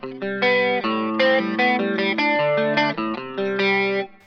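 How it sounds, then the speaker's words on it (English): Fender Jazzmaster electric guitar, a 2018 60th Anniversary model, played clean with chorus effect: a steady run of shimmering, warbling strummed chords and notes, close and loud, with no talk. "If I put a little bit of chorus on."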